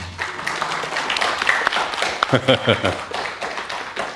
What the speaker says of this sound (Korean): 여러분 심심하니까 박수 한번 쳐주세요.